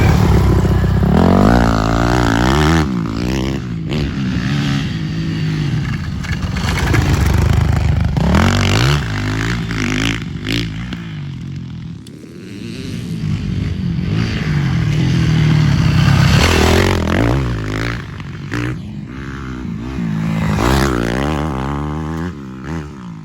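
Motorcycles, one of them a road bike, lap a race track. Engines rev and change pitch repeatedly through gear shifts and passes, rising and falling in loudness throughout.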